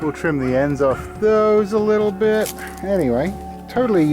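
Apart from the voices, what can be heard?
No everyday noises stand out.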